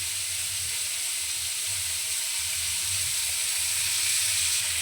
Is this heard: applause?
no